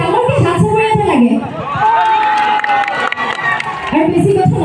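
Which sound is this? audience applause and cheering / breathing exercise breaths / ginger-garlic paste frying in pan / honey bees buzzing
audience applause and cheering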